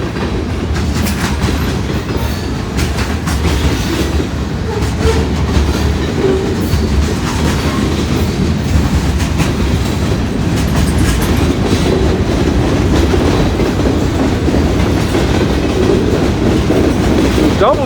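Freight train with distributed power units rolling past up close, a loud continuous rumble and clatter of wheels on rails with occasional squeal, steady throughout without pause.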